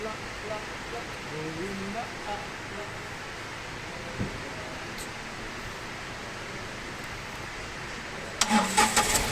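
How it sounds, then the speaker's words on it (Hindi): A Tata Tigor with a weak battery and starting trouble cranks and fires up near the very end, a short burst that follows a long stretch of quiet background hiss with a voice speaking. "तो देख सकते हैं गाड़ी चालू हो गया मेरा"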